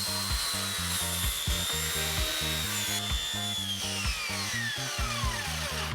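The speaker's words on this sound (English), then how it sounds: "The retrofit bucking system begins with cutting away the old window frame and adding enough strips of wood to create backing for the new bucks." Power tool cutting away an old wooden window frame, a continuous close drill-like whine with a slowly falling pitch, overlaid by regular pulsing rattles from the cut.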